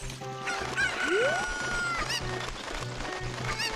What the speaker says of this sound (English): Grab our chicken.